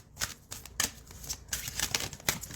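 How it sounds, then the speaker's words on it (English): Tarot cards being shuffled by hand in a quick, uneven run of crisp riffling bursts with short pauses between them, close and fairly loud, no voice over it. "I'm going to keep shuffling."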